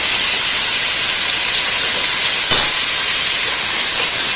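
Tomatoes hit a pan of golden-brown fried onions and sizzle loudly, a steady bright hiss that holds throughout with a brief stir partway through.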